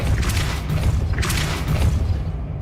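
Depulso spell impact in the video game Hogwarts Legacy, a heavy booming thud with a rumbling low body and a second whooshing burst, loud and close, no talk.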